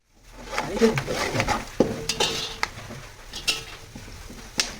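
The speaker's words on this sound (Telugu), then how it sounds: "సో మా తాత కలుపుతున్నాడు అనమాట." A grandfather stirs flattened rice with peanuts, ginger and garlic in a pan, the spoon scraping and clinking against the metal in repeated strokes with light sizzling underneath, close by and with no talk.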